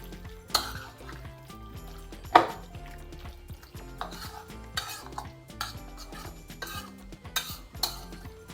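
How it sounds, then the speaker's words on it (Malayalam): Chicken being mixed with masala in a bowl for chicken rice, giving soft repeated stirring and scraping with occasional clinks of utensil against the bowl, fairly close and moderately quiet, with no talking. "നല്ല മിക്സ് ചെയ്ത് വെക്കണേ"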